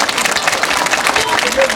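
Audience applause at a village stage play, dense steady clapping that fills the whole moment, with crowd voices mixed in.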